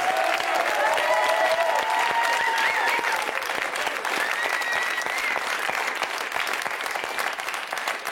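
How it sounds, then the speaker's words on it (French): Audience applause for comedian Franck Dubosc on a French TV entertainment show: dense, steady clapping from a large crowd lasting throughout, with faint voices and whistle-like tones over it early on. "On applaudit Franck Dubosc, s'il vous plaît."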